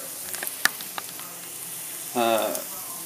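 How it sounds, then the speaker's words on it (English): Water boils in a pot in a home kitchen, making a steady soft bubbling hiss with a few sharp clicks and a short tonal burst near the end. "Water's boiling."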